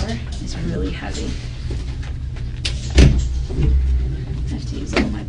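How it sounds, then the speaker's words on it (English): A heavy door is shoved open with full body weight, giving a loud thump and scraping creak near the middle, with a person talking throughout. "I have to use all my body weight to push it open."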